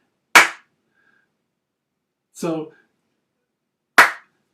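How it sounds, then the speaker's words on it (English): Two sharp single hand claps a few seconds apart, loud and close in an otherwise silent room, with a brief spoken word between them. "If someone claps, you see and hear the clap at exactly the same time"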